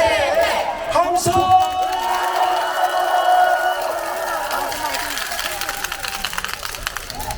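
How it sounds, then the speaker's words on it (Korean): Protest crowd at an anti-Yoon Suk-yeol impeachment rally in Chungbuk roars and shouts together in a sustained, loud cheer of many overlapping voices, some whoops rising above, gradually settling toward scattered clapping and murmurs. "함성!"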